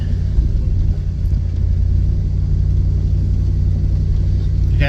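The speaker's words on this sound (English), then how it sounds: "this is the GMC C6500. This is the ride for our grain." A GMC C6500 grain truck engine idles in a steady, loud low rumble that holds even throughout, with no talk over it.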